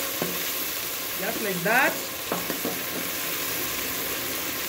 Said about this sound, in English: I'm just frying my mushrooms.